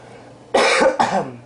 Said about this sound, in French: Pardon, il fallait que je tousse.